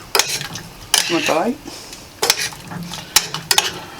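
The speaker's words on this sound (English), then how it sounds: "Give that a little stir." A spoon stirring a pot of chili with meat, stock and a spice blend, producing several sharp metallic clinks and scrapes against the pot in uneven bursts, close by.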